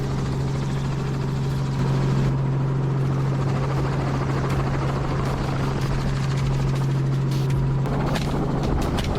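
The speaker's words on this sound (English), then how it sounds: "Ryan maneuvers the helicopter in circles." A hunting helicopter circles low over tall grass, its rotor and engine drone steady and loud with a constant low hum, blade chop flickering throughout.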